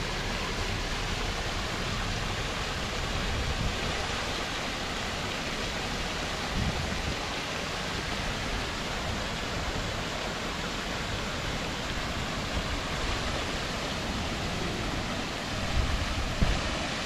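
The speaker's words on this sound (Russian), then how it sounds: "Водопад." A waterfall in Alexandria park at Peterhof on a July day: continuous broadband rushing of falling water, steady and close for the whole stretch with no other notable sounds.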